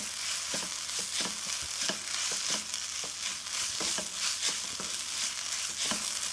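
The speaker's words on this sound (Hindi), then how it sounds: "और इसको अच्छे से मिक्स कर लेंगे।" A snack being mixed in a pan with chaat masala, dry mango powder and fresh coriander, giving a steady sizzle with regular scraping stir strokes roughly every half second, close and alone.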